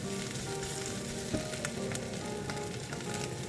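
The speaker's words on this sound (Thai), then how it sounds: "คั่วเครื่องแกงให้หอมค่ะ" Yellow curry paste stir-frying in a hot pan on an electric stove for southern Thai pork khua kling makes a loud, continuous sizzle, with occasional scraping stirs and no talking.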